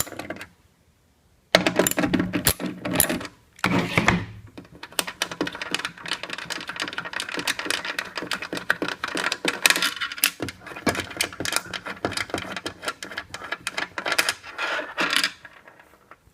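Bolts are being removed from a garage door opener motor unit: a busy stream of close metallic clicks, taps and small clatters after a brief silent pause, with no talk.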